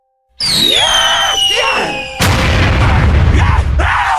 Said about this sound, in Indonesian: Aku akan menembaknya sekarang.